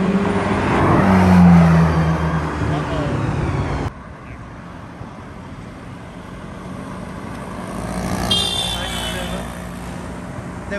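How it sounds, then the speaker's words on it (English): A Porsche 993 sports car drives past on Park Lane in London amid a busy street: a loud engine note swells and fades over the first few seconds, then traffic rumble continues, with people talking throughout. "That's the new Porsche. That's a 993."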